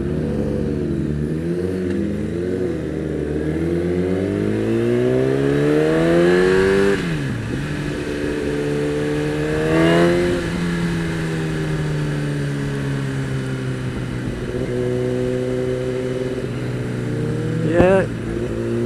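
A sport motorcycle, a Kawasaki ZX10R or Honda CBR1000RR, loudly revs and pulls through the gears on a test ride, the engine pitch climbing and dropping repeatedly, with wind rush and a rider's voice at times.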